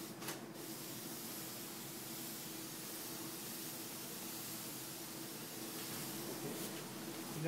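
A steady hiss of water spraying from a sprayer used in woodblock printing runs continuously at close range with little change, as if the sprayer is held down.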